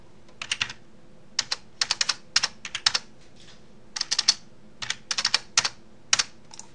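Bursts of quick keystrokes on a computer keyboard as data is entered, clustered taps separated by short pauses, close and crisp with no talking.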